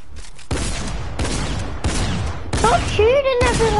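Video game gunfire in a Fortnite-style shooter crackles in dense bursts through most of the stretch, fairly loud, with a voice talking over part of it.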